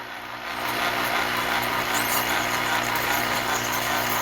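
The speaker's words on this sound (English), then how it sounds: "And now I'm going to drill a hole." A small drill bores a hole for magnets into a miniature figure, giving a steady, close whirring hum that rises quickly and holds at an even level.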